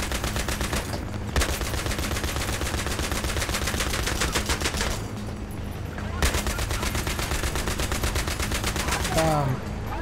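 Rapid automatic gunfire from the Battlefield 3 video game, loud sustained bursts filling most of the span with two brief pauses, a dense rattling barrage of shots.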